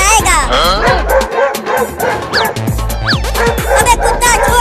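A dog barking and yipping repeatedly in a comedy skit, with loud excited barks and whimpers mixed with shouting voices and music throughout.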